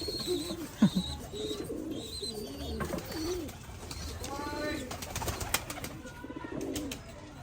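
Pigeons coo softly and repeatedly around a nest with their chicks, the low rolling calls recurring through a busy backdrop with occasional chirps and faint voices nearby.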